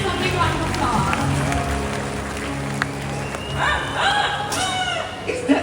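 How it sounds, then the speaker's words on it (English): Rooster crowing at a bird show in an outdoor amphitheater at Mandai Bird Paradise, Singapore, heard as a couple of rising calls near the end amid crowd noise and talk. "Is that a rooster?"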